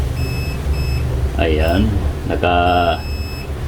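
A multimeter gives continuity-test beeps while an amplifier with no power is checked, two tonal buzzes up close against a steady background hum, with brief speech nearby.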